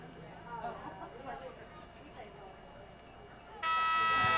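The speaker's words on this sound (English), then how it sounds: "there's the buzzer for the end of the game" An end-of-game buzzer at a high school varsity field hockey match sounds loud and sustained near the end, cutting in sharply after a stretch of crowd murmur and talk.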